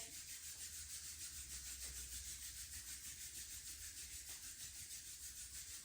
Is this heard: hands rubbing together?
yes